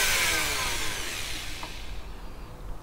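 A Dremel rotary tool drills during the restoration of a Kriesler 3K40 valve radio, giving a steady high whirring hiss that slowly fades over a few seconds, with no voices.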